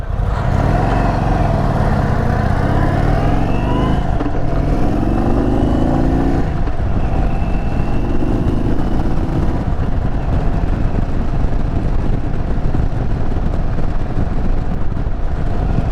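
2022 Indian Super Chief Limited motorcycle on the road, a loud low engine rumble with rising and falling revs as it accelerates and shifts, heavy wind buffeting throughout.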